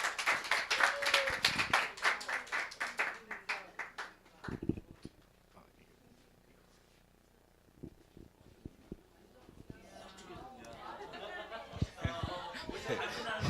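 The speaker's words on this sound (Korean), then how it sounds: "우리 큰 박수로 환영하겠습니다." Congregation clapping in a Korean church service, a burst of rapid applause that fades after a few seconds, followed by quieter stretches with scattered taps, laughter and people talking.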